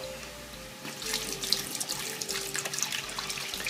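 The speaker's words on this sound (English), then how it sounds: "Now we can go ahead and put in our broth" Broth poured into a beef stew pot, making a steady running-water splash with faint bubbling, fairly close and continuous for a few seconds.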